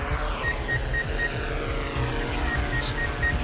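Military mapping drone taking off, a steady propeller whir with a faint high whine, continuous and fairly close throughout.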